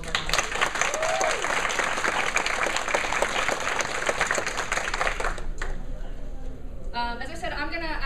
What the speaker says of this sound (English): So a big round of applause for all of our volunteers.